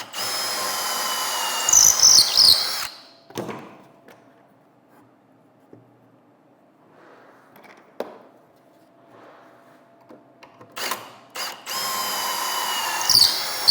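A power drill drives pocket hole screws into wooden window casing in two loud, whirring bursts at the start and end. Quiet handling and faint taps fill the pause between them.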